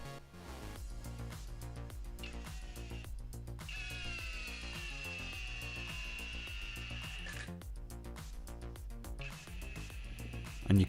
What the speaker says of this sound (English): you can hear the impact driver, it barely even uses the pendulum hammer action